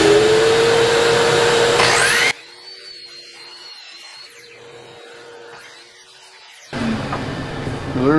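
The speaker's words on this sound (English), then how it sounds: "Alexa, turn on the vacuum." A vacuum cleaner whines loudly for a couple of seconds, cuts off into quiet, then roars back on near the end.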